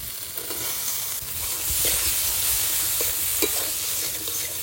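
Green chillies fry and sizzle in hot oil in a pan while a spoon stirs them, giving a steady crackling hiss broken by occasional scraping strokes, close and without speech.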